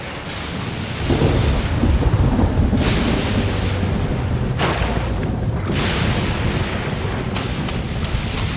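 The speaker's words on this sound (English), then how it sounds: "I like how you can strike the lightning in the water." Thunder from a lightning strike in the Genshin Impact video game, rolling loud and close over steady heavy rain, with repeated crashing surges across the whole stretch.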